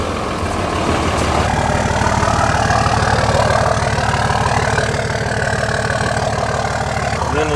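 A 2019 Ram dually pickup with a Cummins 5.9 diesel rumbles steadily at idle, close and loud, its low, even clatter running throughout with no pause.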